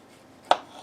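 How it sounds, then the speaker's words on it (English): A single crisp knife chop slices through an heirloom tomato on a board, one short close thud in an otherwise quiet kitchen. "let's cut a little bit of this one too"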